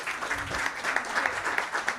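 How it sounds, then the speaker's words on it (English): Audience applause for a panel of speakers at a conference on AI strategies for jobs and economic development, a steady dense clapping that carries through the whole short stretch. "A round of applause for the panelists."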